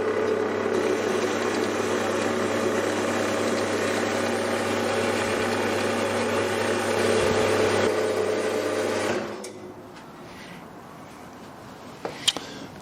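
Horizontal bandsaw cutting a metal piece to length with a mitre set, running as a steady loud mechanical drone with a continuous hum. It drops away near the end as the piece parts, leaving a few light clanks.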